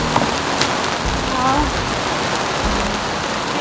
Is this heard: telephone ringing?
no